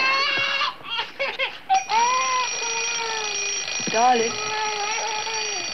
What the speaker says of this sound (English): Darling, alarm.